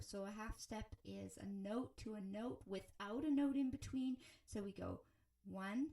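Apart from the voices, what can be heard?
No distinct noise like a dog, phone or traffic.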